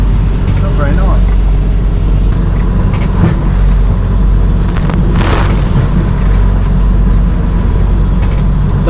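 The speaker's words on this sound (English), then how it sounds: "The wind's blowing 27, 28 knots." Strong wind of about 27 to 28 knots buffets a sailing boat moving slowly out of a marina, a steady loud roar of gusts and microphone wind noise with water and hull sounds beneath, and a voice talking over it.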